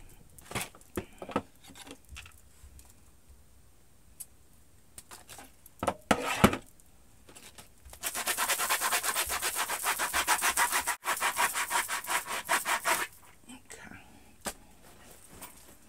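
A Crocs shoe is sanded by hand with a steady back-and-forth scratchy rubbing that lasts about five seconds, close up, after scattered handling noises and quiet speech.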